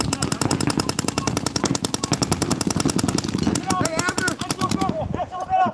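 Rapid bursts of paintball markers firing at an outdoor paintball park, a dense steady rattle of shots that runs throughout, with a raised voice calling out over the firing near the end.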